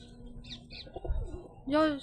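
Soft low cooing from pigeons close by, a few short murmured calls followed by a louder rolling coo at the end.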